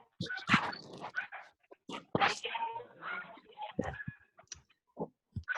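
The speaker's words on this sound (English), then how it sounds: "Oh, Bree, your puppy." Soft, close dog noises, snuffling, whimpers and a few small yips, scattered across a quiet room with some hushed human sounds.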